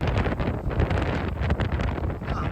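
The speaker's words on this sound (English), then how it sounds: "It is windy" Strong ocean wind buffets the microphone in a continuous roar on the Florida coast, loud and gusty with no voices.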